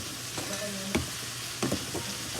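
Butter sizzles steadily in a pan with corn, a continuous frying hiss broken by a few stirring scrapes and knocks of a utensil against the pan, close and with no talk.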